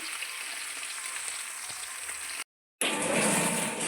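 Fish fries in a pan with a dense, steady sizzle and crackle at close range, briefly cut off to silence before resuming slightly louder.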